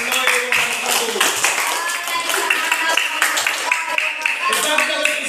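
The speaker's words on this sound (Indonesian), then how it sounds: "Tepuk tangan" Clapping from a group in a classroom at the end of a role-play lesson. It is a quick, rapid patter of many hands that continues throughout, mixed with voices and tonal sound.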